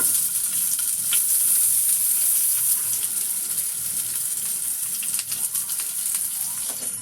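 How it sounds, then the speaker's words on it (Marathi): Vertically sliced onions roasting in a hot pan for a matar malai curry, giving a steady close sizzle with soft stirring scrapes, continuous and fairly loud with no talk over it. "आता आपण मसाले भाजून घेऊया। तीन कांदे आहेत उभे चिरलेले"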